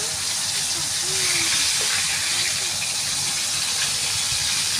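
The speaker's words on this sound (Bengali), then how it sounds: "ছাঁকা তেলে ভেজে নেব লোটে মাছটাকে" Bombay duck fish deep frying in hot oil, a loud continuous sizzling hiss that holds steady throughout with faint clinks in the background.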